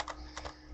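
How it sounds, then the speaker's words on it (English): A few quiet clicks of keys on a computer keyboard during a sports podcast recording, faint and brief against a low background hum. "don't mind if you hear some keyboard action a little bit"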